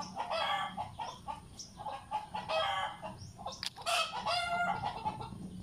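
Roosters crow repeatedly while hens cluck nearby, a loud, lively barnyard chorus with overlapping calls.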